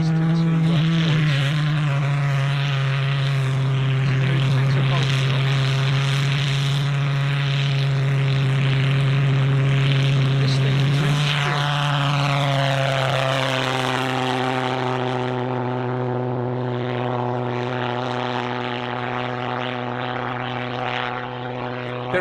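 A model aircraft engine with no throttle runs loudly and continuously at an outdoor air show, a strong steady buzzing drone whose pitch shifts partway through.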